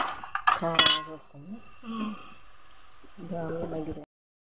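Cooked goat head meat stirred into a pot of onions with a metal spoon, giving a few sharp clinks and scrapes against the pot, with a person talking over part of it.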